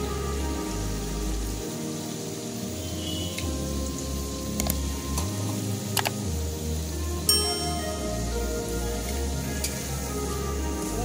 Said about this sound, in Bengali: মাছটা ভাজা হয়ে গেছে, আমি এবার বাটা মশলাটা পুরো দিয়ে দিচ্ছি